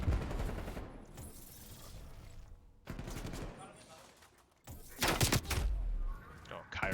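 Bursts of automatic gunfire from a Call of Duty match, loud and close, running as rapid rattling volleys with a short pause midway and a heavier burst near the end, over a busy game soundtrack with commentator talk.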